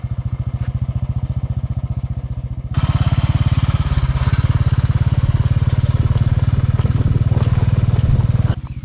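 A motorcycle engine putters steadily, then revs louder and keeps a rapid, throbbing run close by as a learner rider releases the clutch and pulls away on a desert road in the Rann of Kutch.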